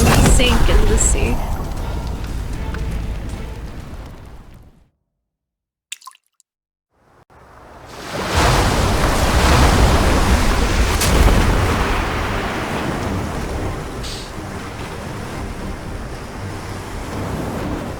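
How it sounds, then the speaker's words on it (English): Churning sea waves in the distant waters off Lincoln City's southeastern region, a video game ocean rolling with broad surf noise, cut by a brief silent gap before the wash swells back loud and steady. "In the distant waters belonging to Lincoln City's southeastern region, the sea churns without the wind. Terrifying giant waves rise."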